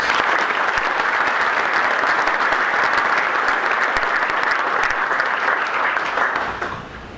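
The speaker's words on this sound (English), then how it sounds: "So a big round of applause for those folks." Sustained applause from an audience honouring golf champions at a Southern California PGA annual meeting, a dense steady clapping that holds for several seconds and then fades.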